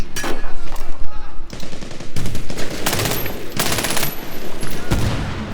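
Rapid automatic gunfire and single shots from the video game Medal of Honor Warfighter during a hostage-rescue mission, loud bursts repeating in clusters with brief pauses between volleys.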